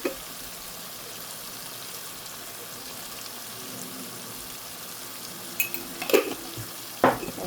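A pomfret fish curry simmers in a pan over a low flame, giving a soft, steady bubbling hiss, with a few sharp utensil clinks near the end.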